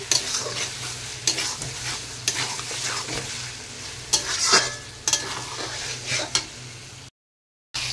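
Masala of ginger, garlic, onion and green chili stir-fried in a pot for mutton, with a steady close sizzle and repeated scraping strokes of a spoon, briefly cutting out near the end.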